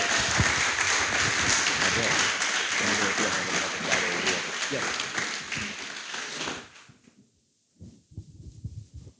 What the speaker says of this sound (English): I want you to give him a hand of applause